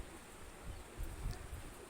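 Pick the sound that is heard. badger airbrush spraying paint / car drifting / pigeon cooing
pigeon cooing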